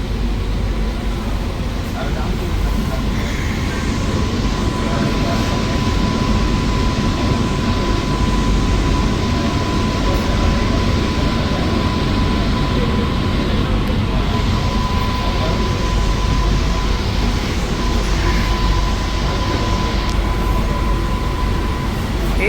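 A new air-conditioned AC EMU electric suburban train running on the MSB to CGL route, heard from inside as a loud, steady rumble and rolling roar that lasts throughout, with a thin constant hum and voices faintly in the background.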